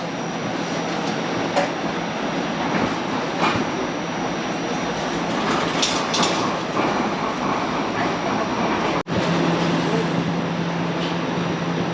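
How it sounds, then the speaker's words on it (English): Steady interior rumble of a Toronto streetcar on the way to the harbor at Queens Quay West, with continuous rolling noise, faint clicks and a brief dropout near the end, and no clear talking over it. "we got on the tram, heading to the airport now"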